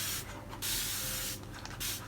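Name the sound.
spray bottle spraying water on sketchbook paper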